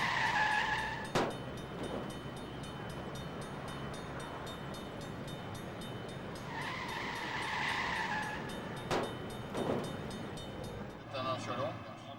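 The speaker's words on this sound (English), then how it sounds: "A train's coming, the barriers come down, and a driver chances his luck." A train approaching a Staffordshire level crossing with the barriers lowered, heard as a steady broad rumble throughout, with a warning tone pattern and some brief sharp clicks above it.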